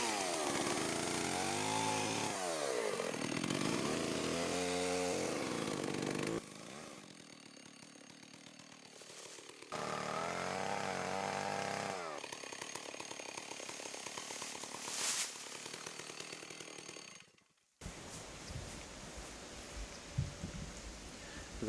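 A chainsaw cuts a small eucalyptus during thinning, revving loud and steady in bursts with pauses between cuts for the scarf and back cut, with no talk.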